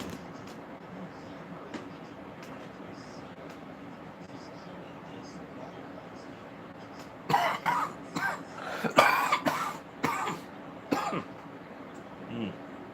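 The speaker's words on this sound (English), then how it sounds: "this cough's been getting to me." A string of harsh coughs bursts out in quick succession, close and loud, over a quiet background hum.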